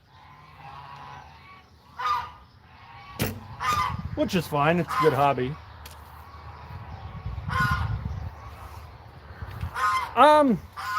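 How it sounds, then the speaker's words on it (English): Geese honk loudly at a South Dakota bird-keeping spot, with several harsh nasal calls in scattered bursts that are close and prominent, and someone talking in between and over them. "Those aren't ducks. Those are geese."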